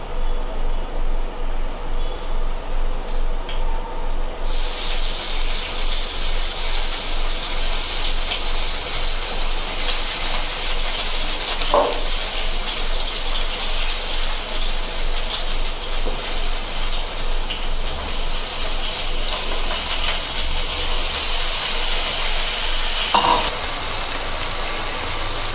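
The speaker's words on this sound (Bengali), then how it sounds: "এখানে রাইসটার জল অলরেডি বয়েল হতে শুরু করেছে" Water coming to a boil for mutton biryani rice, a loud continuous rumbling roar that holds steady for about twenty-five seconds, with a couple of faint clinks and no talk.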